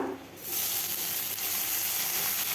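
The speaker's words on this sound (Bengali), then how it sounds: "আদাটাকে ভালোভাবে ভেজে নেব কাঁচা গন্ধ যেন চলে যায়" Grated ginger hits hot oil already holding dried chilies, bay leaves and cumin, bursting into a sudden loud, steady sizzle that carries on unbroken after a brief quiet start.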